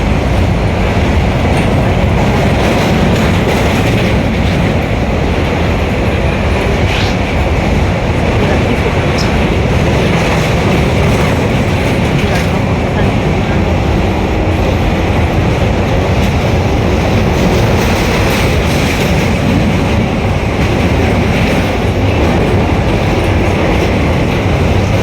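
A train rumbles loudly and continuously at a railway station, with a dense low roar and faint rhythmic clatter of wheels throughout, no talking.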